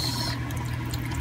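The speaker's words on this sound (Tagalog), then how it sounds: "ilagay na natin ang gatas" Milk poured into a pot of chicken macaroni soup, a steady liquid pour running throughout, close and fairly loud, without speech.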